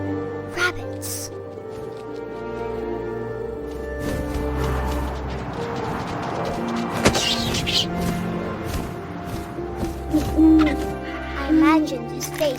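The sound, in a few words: owl hooting in What Remains of Edith Finch video game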